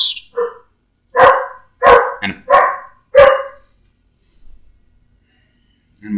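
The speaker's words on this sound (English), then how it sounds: "And my dog, if he doesn't shut up." A dog barks loudly and close by: a short yip, then a quick run of five sharp barks, a pause, and one more bark starting at the end.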